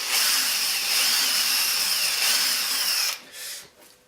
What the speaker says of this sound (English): just take a drill and drill them out.